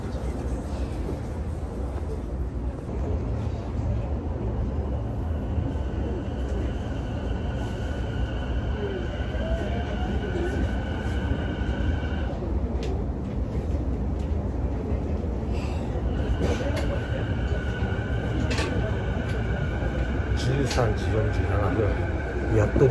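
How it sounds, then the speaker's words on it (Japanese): Inside a crowded JR Saikyo Line commuter train, stalled just short of Ikebukuro station, a low steady rumble runs beneath rising electric motor whines as the train starts moving again, with voices audible in the carriage. "3時47分、やっと電車が動きました。"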